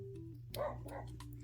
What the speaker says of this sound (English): my dog is outside barking at the world